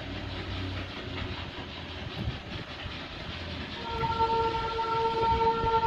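A coal-powered steam train in Darjeeling passes with a steady rolling rumble, then a sustained horn or whistle tone rises over the noise in the last couple of seconds.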